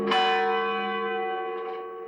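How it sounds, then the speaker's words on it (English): Church bells ring on a Sunday morning at St. Vibiana's Cathedral in Los Angeles, one clear struck tone blooming and slowly fading with a long, resonant sustain, heard alone. "Sunday morning bells announced his entrance."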